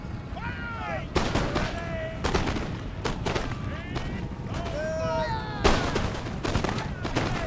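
Musket volleys crack in ragged bursts on a Napoleonic-era battlefield in Empire: Total War, several loud rolling salvos spaced a second or two apart, with faint whistling and distant shots in between.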